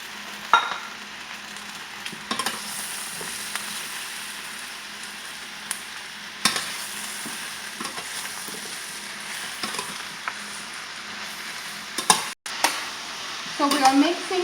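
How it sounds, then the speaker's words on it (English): White onion, white mushroom, yellow squash and zucchini sauté in a pan as they are stirred. The sizzle runs throughout, with scraping strokes and occasional clunks of the utensil against the pan. "So we are mixing the vegetable."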